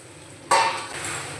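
Shelled peas drop into frying spice masala in a pan with a sudden rattling clatter that settles into a soft sizzle, close and brief.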